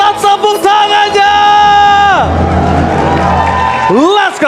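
An esports arena crowd at an MPL Indonesia match between RRQ and TLID claps and cheers loudly. A caster's voice and a sustained electronic tone ride over the dense crowd noise.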